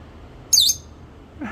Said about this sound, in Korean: 2살 배기 앵무새